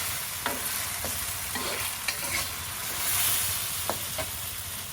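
Beef with green peas in oyster sauce stir-fried in a pan: a continuous close sizzle broken by several sharp scrapes and clicks of the utensil against the pan, with no talking.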